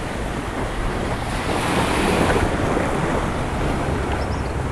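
Surf rolling onto Darkwood Beach in Antigua, a steady, loud wash of breaking waves mixed with wind buffeting the microphone, continuous throughout with no voices.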